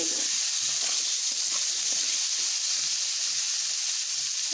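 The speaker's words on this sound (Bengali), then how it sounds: "এইভাবে একটুক্ষণ ভালোভাবে ভেজে নেব।" Potato and radish pieces seasoned with turmeric and salt frying in hot oil, a steady, dense sizzle that holds evenly throughout with no voices.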